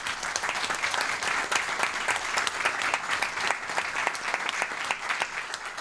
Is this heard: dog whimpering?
no